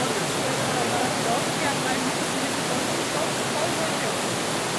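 Steady, dense rush of falling water from the Cachoeira do 19 waterfall in Jequié, Bahia, fills the clip, a constant broadband roar with no breaks or distinct events.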